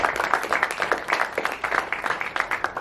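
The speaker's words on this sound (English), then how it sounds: "And then I will call upon Thijs Reuten, under a loud round of applause, to also take the stage." An audience at a political event on Serbian elections gives a loud round of applause, dense and sustained clapping that pulses evenly throughout, heard alone without speech.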